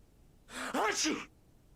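A character in the video game Alan Wake Remastered lets out one short, close sneeze, a breathy burst that rises and then cuts off against a quiet background.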